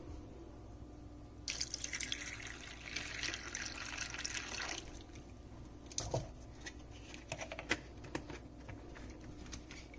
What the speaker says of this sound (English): next all you have to do is add some cranberry juice, and it's 2 ounces of cranberry juice